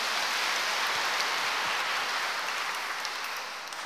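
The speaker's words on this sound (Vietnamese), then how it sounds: "Chúng ta cùng chào mừng những gia đình ở Vĩnh Xuân bằng một tràng pháo tay thật là đặc biệt" Congregation applause during a First Communion Mass at a parish church, a dense, steady wash of many hands clapping that holds evenly and tapers slightly at the end.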